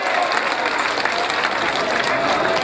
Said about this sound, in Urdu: زوردار تالیوں سے استقبال کریں